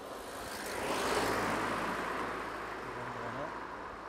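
A car approaches and passes on a narrow two-track road, a low engine rumble swelling and then fading, fairly faint and heard from inside a nearby vehicle.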